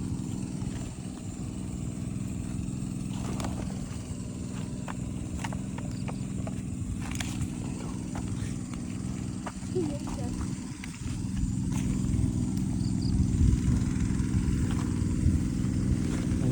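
An irrigation water pump engine runs in a rural field, a steady low drone with a faint rhythmic knock that holds throughout, growing slightly louder toward the end, with people talking nearby.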